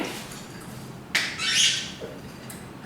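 Senegal parrots at a parrot rescue give a loud, harsh squawk up close, with a sharp onset and a brief trailing call, no talking.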